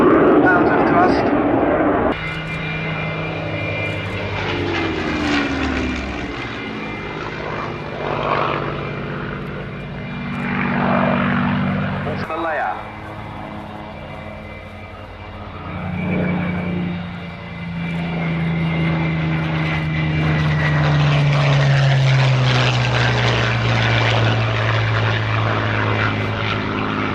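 A twin-engine aircraft at an aviation show, each engine making about 11,000 pounds of thrust, roars past as a loud, steady engine drone that swells and fades, with an announcer talking over it throughout.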